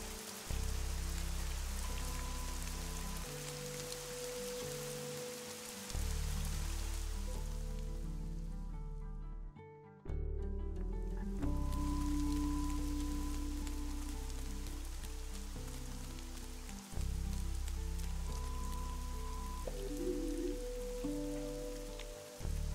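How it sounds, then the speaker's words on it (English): Steady rain falling in the video game Fall of Porcupine, a dense, continuous patter that fills the scene, with gentle game music playing underneath throughout. "I really love rain."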